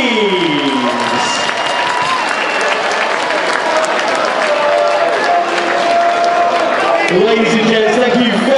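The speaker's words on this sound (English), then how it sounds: "Would you please continue that very warm applause for a gallant opponent from Chester, Paul Economides!" A boxing crowd keeps up warm, sustained applause for a defeated fighter from Chester after the bout, dense clapping throughout while an announcer's amplified voice talks over it.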